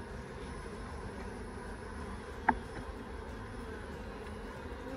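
Honeybees in an aggressive hive under maintenance, giving a faint, steady, low buzzing drone with a single sharp click midway and no talk.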